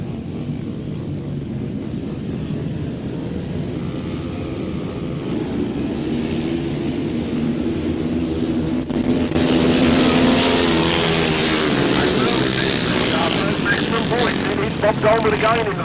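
Grasstrack racing motorcycles roar with throttles wide open down a back straight at a Whitsun meeting, a steady engine drone under a commentator's talk that swells noticeably louder and harsher about halfway through.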